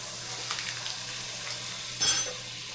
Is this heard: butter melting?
yes